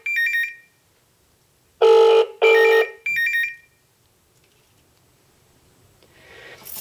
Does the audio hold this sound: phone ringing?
yes